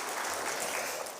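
Church congregation clapping during a Sunday worship service, a steady dense wash of applause filling the room for about a second, moderately quiet and with no voices over it.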